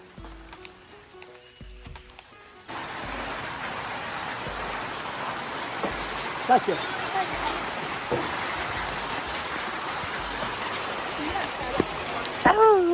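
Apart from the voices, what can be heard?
rain falling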